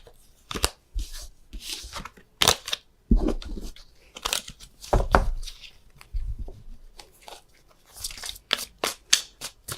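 Tarot cards shuffled by hand in a series of crisp, papery riffles and slaps, arriving in uneven bursts with short pauses between them, close and fairly loud, with no talking.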